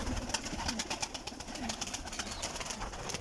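Pigeons in a loft coo softly and repeatedly at close range over a busy background of rustling and low noise.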